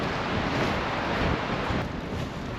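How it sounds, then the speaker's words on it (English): Strong wind roars steadily at a snowy late-February winter campsite, buffeting the microphone with loud, continuous rumbling gusts and no voices. "It's a little windy."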